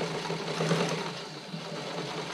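A sewing machine runs steadily, stitching picot-edged elastic onto a bra fitting sample, a continuous close mechanical whir with an even motor hum throughout and no talking.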